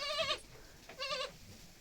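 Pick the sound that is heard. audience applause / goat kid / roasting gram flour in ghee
goat kid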